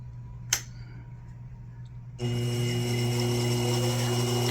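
A small watchmaking lathe clicks on after a quiet moment, then settles into a steady, fairly quiet motor hum with a thin whine as it spins at near top speed, with no voice over it.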